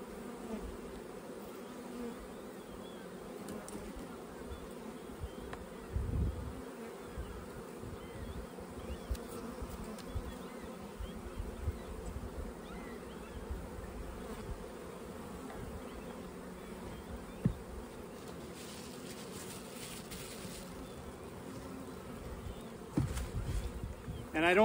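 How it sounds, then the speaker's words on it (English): Honey bees swarming thickly over a brood frame, a dense, steady buzzing close by that holds for the whole stretch with occasional soft handling noises. "We'll give them a frame of brood, just dripping of bees."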